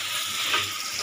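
Ground spice paste sizzles in a hot frying pan for yakhni pulao, a brief, steady crackle with a soft scrape of stirring near the middle, close and moderately quiet.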